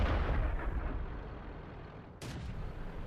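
Tank cannon fire in World of Tanks, with a heavy boom at the start rolling into a long rumbling decay, then a second sharp blast near the end, loud with no talk.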